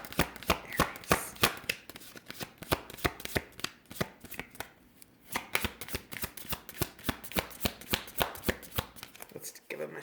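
Tarot cards are shuffled close up in a quick, repeated riffle of sharp slaps and flutters that continue steadily, while a voice speaks quietly underneath.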